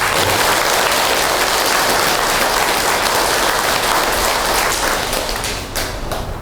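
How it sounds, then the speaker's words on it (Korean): Temple congregation at a Buddhist Zen center ceremony applauding the volunteers: dense, steady clapping from many hands filling the space, holding loud for about six seconds before thinning slightly at the end. "봉사자들께 고맙다는 박수 한번 부탁합니다"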